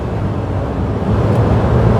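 A 2012 Daihatsu Tanto Custom RS Turbo kei car with a CVT drones at high revs under acceleration, a loud, steady engine hum heard from inside the cabin with road and wind noise.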